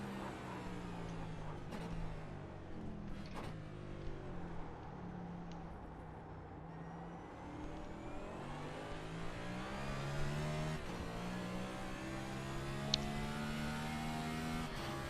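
A race car's engine drones steadily through a lap of the Montreal circuit, its pitch climbing and dropping with gear changes and throttle, heard close and continuous with no talk.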